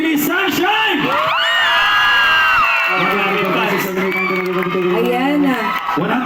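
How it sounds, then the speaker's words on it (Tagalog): A Filipino crowd roars and cheers for Bini Sunshine, shouts and whoops rising loudly in waves under and around an excited host's voice. "palakpakan sigawan para kay Bini Sunshine!"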